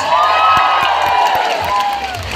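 A political rally crowd at a financial assistance payout cheers, whoops and claps loudly together, a dense sustained roar with high voices shouting over scattered clapping.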